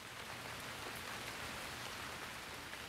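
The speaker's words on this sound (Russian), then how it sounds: "Как видите, погода слегка ненастная." Steady rain falls in bad weather on Table Mountain, a dense, even patter of drops on surfaces continuing without pause, fairly soft and with no voices.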